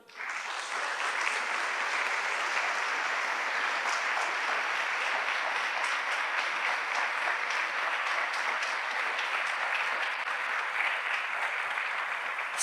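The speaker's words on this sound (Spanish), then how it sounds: "Denle un aplauso grande." A church congregation applauds, a dense, steady wash of many hands clapping together that holds without letup from start to finish, with no voices rising above it.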